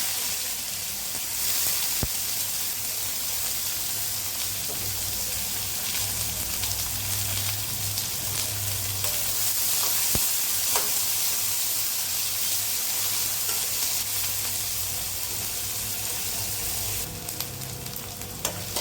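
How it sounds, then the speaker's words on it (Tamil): Onions fry in a pan for crab gravy, a loud, dense and continuous sizzle like heavy rain that holds steady for nearly twenty seconds, with an occasional faint tick and no speech. "இப்போ வந்து பொரிஞ்சிருச்சு வெங்காயம்"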